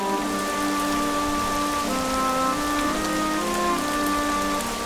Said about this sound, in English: It's a wet and rainy day in Springland.